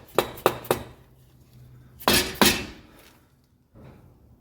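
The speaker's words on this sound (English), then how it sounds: "I'm just tapping it off with just a mallet" A mallet taps a Jeep JK Wrangler wheel hub, with three quick sharp metallic knocks, a pause, then two louder close strikes, each ringing briefly before fading.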